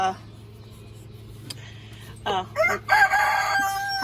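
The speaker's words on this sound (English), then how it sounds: "So Luna and the two little girls haven't laid in the past couple days. My Brahmas, of course." Brahma chickens nearby give a short burst of loud, strained clucking and crowing-like calls after a quiet stretch.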